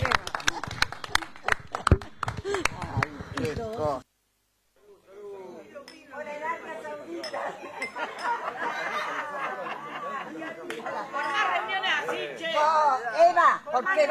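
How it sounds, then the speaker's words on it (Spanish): Guests at an 87th birthday gathering in a home clap briefly, sharp close hand claps that stop abruptly, followed by chatter and overlapping talk among family members. "les pido un aplauso para Miriam, Beba"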